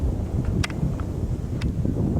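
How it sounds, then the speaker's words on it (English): Gusty wind buffets the microphone in a steady low rumble at Lake Vallecito, New Mexico, broken by a couple of brief clicks; no one speaks. "And it's windy this morning."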